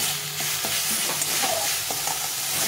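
Bottle gourd leaf bharta is stirred in an oily pan, with a steady close sizzle and soft, repeated scraping of the spoon through the mash.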